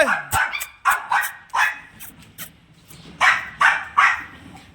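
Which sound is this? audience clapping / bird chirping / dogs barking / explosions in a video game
dogs barking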